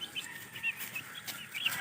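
Chickens in a farmyard cluck softly at a distance, short repeated calls over a faint, steady background hiss, with no one speaking.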